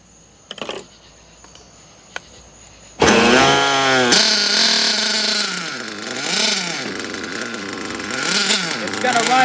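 A nitro RC engine with a fresh glow plug sputters briefly, then bursts into a loud, buzzing high-pitched run whose pitch swoops up and down as it settles toward idle while being tuned.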